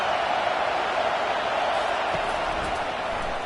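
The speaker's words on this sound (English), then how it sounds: "this crowd is turning it up a notch" Steady, dense stadium crowd roar from the College Football 25 video game at an Ohio State vs Michigan matchup, a continuous broadband wash that stays loud throughout with a few faint thuds underneath.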